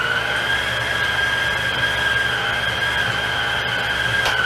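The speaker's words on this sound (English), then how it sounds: "hear this straining now. It means I'm getting nice thick dough going, so the engine's working, especially at the lower speeds here" A stand mixer motor strains at low speed while kneading a thick, two-loaf batch of bread dough, giving a steady, loud whine with sustained tonal bands and a constant low rumble, no talk.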